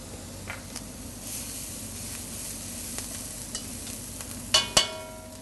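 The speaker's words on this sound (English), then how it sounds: "only sauteing about a minute and a half because I cut them on a smaller dice" Diced vegetables sauté in a pan with a sprig of rosemary and a fresh bay leaf, a steady close sizzle and hiss with a few sharp clinks near the end.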